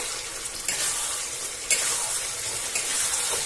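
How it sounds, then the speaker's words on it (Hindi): Chicken curry fried on a high flame, a soft steady sizzle with a few brief stirring scrapes, close and fairly quiet, no voices. "अब इसको हम हाई फ्लेम पे इसको हम थोड़ा भून लेंगे।"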